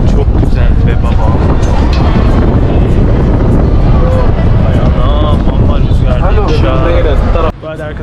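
Cold wind blasts across the microphone atop Galata Tower, a loud, continuous rushing buffet that nearly drowns a person talking, before it drops away abruptly near the end.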